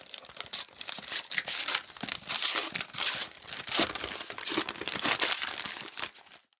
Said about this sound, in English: Wrapping paper flings in every direction as I tear it away.